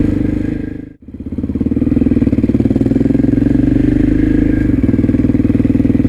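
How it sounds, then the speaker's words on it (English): KTM 660 SMC single-cylinder motorcycle lugging in a high gear, a loud, steady, throbbing engine note with a coarse juddering pulse, briefly dipping near the start before settling into a sustained rumble. "You try and potter along in a high gear and it just shakes and judders and you can end up stalling it even."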